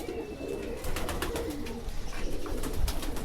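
A Kale chapdar pigeon, a black-nailed female, coos softly in low repeated murmurs, with faint chirps and background bird noise around it.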